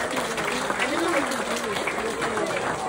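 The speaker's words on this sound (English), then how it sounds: "Round of applause for Hagrid, ladies and gentlemen." A small group claps steadily in a round of applause for Hagrid during a day out in Cairns, with people talking over the clapping.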